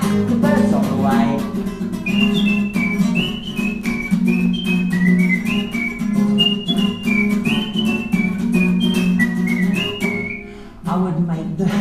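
Someone whistles a bouncy melody in short, clear notes over a steady musical backing with a low bass line.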